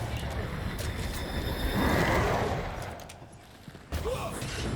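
Rapid gunfire in the video game Banishers: Ghosts of New Eden, shots aimed at a lantern, a dense crackling burst over busy game noise that thins out, then picks up again near the end.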